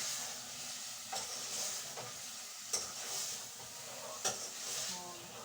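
Green beans and potatoes stirring in a hot pan, a quiet constant sizzle broken by a few sharp clinks and scrapes of a spoon against the pan, with no talking.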